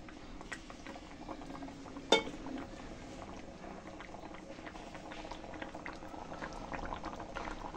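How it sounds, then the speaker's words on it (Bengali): Mung dal curry simmers in a pot with a soft, steady bubbling and popping, faint and close, broken by one brief clink near the start; no speech. "ডাল ফুটে গেছে"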